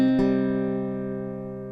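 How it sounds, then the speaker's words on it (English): Acoustic guitar picking a chord pattern: a bass note struck together with the 2nd string, then single notes on the 4th, 3rd and 4th strings, with a clear attack and long ringing sustain, close and alone. "the first 4 plucks will consist of the bass note of whatever chord you're playing and the 2nd string at the same time"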